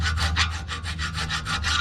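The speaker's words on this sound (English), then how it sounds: "So just file them out" Metal file scraping back and forth across the rusty pad contact areas of an Audi A4 Quattro 3.0 brake caliper bracket, about ten even rasping strokes close up with no talking.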